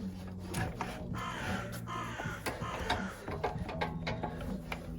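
Someone undoes a nut on a GY6 125 scooter with a ratchet, making a series of quick clicking ratchet strokes in bursts, close and fairly quiet, with a low steady hum underneath.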